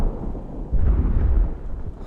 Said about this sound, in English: I do like the distant roll of fire.